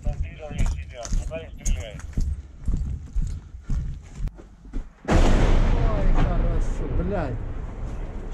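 People talk, then a loud 150 mm artillery boom cuts in and rumbles on, fading slowly while the voices continue beneath it.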